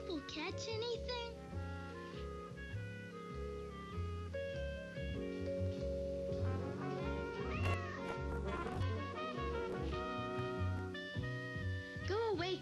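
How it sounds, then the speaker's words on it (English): Cartoon cat meowing and caterwauling over and over in a Family Circus Easter animation, with voices and background music playing throughout at a low level. "Go away, kitty cat."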